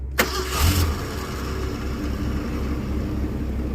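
A 1981 Ford Mustang with a carburetor is started cold: a short crank catches almost at once and the engine settles into a steady, even idle, close and loud.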